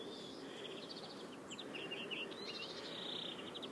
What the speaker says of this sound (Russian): Птички поют, потихоньку тает.